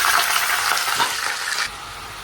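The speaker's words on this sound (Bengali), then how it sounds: "ছোট ছোট করে মুরগিগুলোকে না আগে একটু ফ্রাই করে নিব" Small chicken pieces fry in a pan with a loud, dense hiss that stays steady, then drops slightly toward the end, close and alone without speech.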